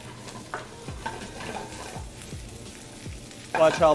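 Food given a quick sauté in a hot pan, a low sizzle under sharp repeated clinks and scrapes of a utensil, ending in a louder burst of hissing.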